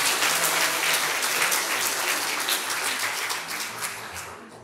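A school graduation audience breaks into dense, sustained applause, loud at first and tapering slightly as the clapping thins toward the end.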